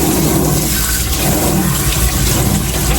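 Salad vegetables are drained after a cold-water rinse in a home kitchen, water running and splashing steadily for the whole stretch at close range, with no voices.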